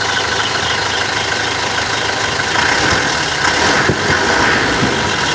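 An Isuzu Travis engine runs steadily at a smooth idle after a low-power fault was checked, a continuous mid-pitched rumble with a slight swell in loudness partway through, with no voices.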